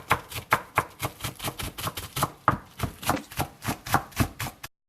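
A knife chops through a bunch of green onions on a cutting board, about twenty crisp, evenly spaced taps in a steady rhythm, close and clear with no talking.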